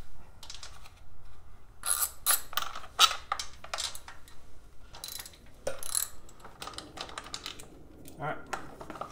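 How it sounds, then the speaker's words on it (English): A socket wrench ratchets as two 7/16 breather bolts come off a Harley throttle body, giving repeated close clicking and metallic ratchet bursts with brief pauses between. "The two breather bolts come off with a socket."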